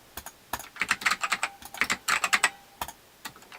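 Rapid typing on a computer keyboard while entering details during Windows setup on an SSD Mac Mini, close and clear, in quick irregular bursts with brief pauses.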